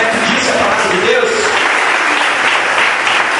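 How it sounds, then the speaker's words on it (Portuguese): A church congregation claps hard and fast in a dense, continuous roar of applause that stays loud and steady throughout, with voices mixed in underneath. "Bate as palmas bem forte para Deus."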